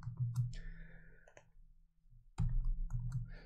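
Keyboard typing during Django project setup: a few quick, close, soft clicks in short bursts with a brief pause between them, quiet and alone.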